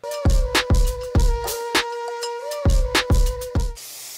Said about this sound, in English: Adding a little bit of hairspray for a little hold.